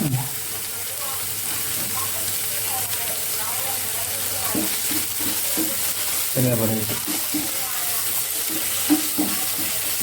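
Onion, tomato and curry leaves sizzle steadily in a frying pan while preparing Kerala-style ayala (mackerel) pollichathu, with occasional stirring scrapes and a voice speaking intermittently over the constant hiss.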